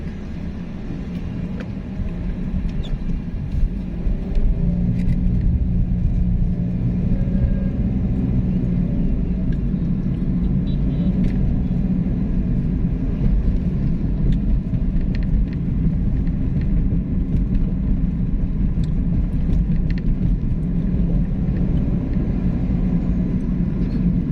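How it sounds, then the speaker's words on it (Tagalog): Road traffic in Pampanga, Philippines, a constant low rumble of passing vehicles heard from inside or beside a moving vehicle, steady and fairly loud throughout with faint clicks and no talk. "Traffic."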